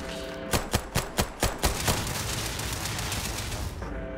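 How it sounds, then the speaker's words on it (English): Gunfire in Starfield: a rapid run of sharp, evenly spaced shots rings out close and loud, then gives way to a dense, steady roar of continued firing. "Someone shooting?"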